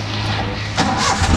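Stalled car engine failing to start, a low steady engine-like hum followed by rough bursts of cranking that sputter without catching, close and moderately loud.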